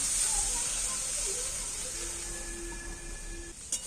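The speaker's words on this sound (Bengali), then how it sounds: "এইবার আমি সাইড দিয়ে একটু জল দিয়ে দিচ্ছি" Water poured in at the side of a pan of frying spice paste sets off a steady hiss of steam and sizzle that slowly fades, ending with a short clatter.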